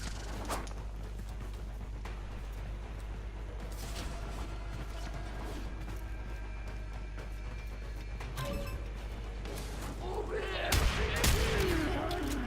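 Rapid gunfire while slide shooting in the sci-fi game Warframe, bursts of shots over a steady low drone, building to a louder clash of hits and impacts near the end, no talk heard.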